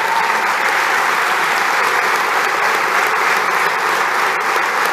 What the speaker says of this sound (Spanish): Un aplauso para Juan Gelman